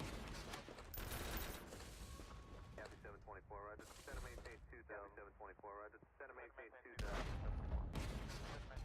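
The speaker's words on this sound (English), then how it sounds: "shelling the heavy artillery is kind of insane" Heavy artillery shelling in Noobs In Combat: Cold Front, dense rumbling barrages and blasts filling the background while a voice talks over the middle stretch, then a loud resurgence of explosions at the end.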